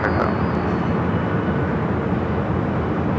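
An airliner rolls down runway 24 left at LAX, a loud, steady roar of engines and broadband rushing noise sustained throughout.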